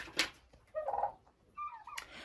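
Turkeys in a yard eating apples, a few short gobbling and clucking calls close by with faint pecking and rustling between them.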